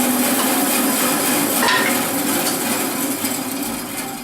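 A Grizzly bandsaw fitted with a resaw blade cutting through wood, a continuous loud whirring hiss that holds steady for the whole stretch and tapers slightly at the end.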